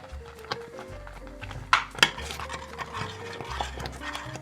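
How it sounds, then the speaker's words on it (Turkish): A spoon stirs butter through hot, thick pudding in a pot on a switched-off stove, with steady scraping and a couple of sharp clinks against the pan, close and fairly quiet. "Tereyağını eriyene kadar karıştırıyoruz."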